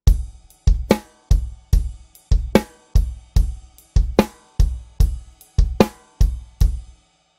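A drum kit plays a steady 16th-note rock groove alone, with regular kick and snare hits and crisp hi-hat strokes, close and clear.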